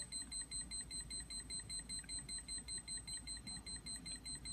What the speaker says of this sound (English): Okay, wrong code again. It will alarm.